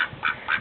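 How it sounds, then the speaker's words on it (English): Farm ducks quacking, two or three short nasal calls close together in a brief burst, fairly near and alone. "And the duckies."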